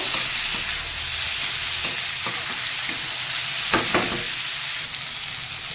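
Figs fry with onion and chilli in a pan under a continuous loud sizzle, while a utensil stirs and scrapes them with occasional close knocks, and no one speaks.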